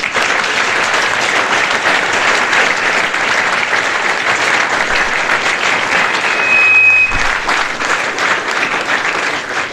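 A large audience at a motivational student talk claps loudly and continuously for a teacher, a dense, even roar of hands that holds steady throughout, with no voices over it.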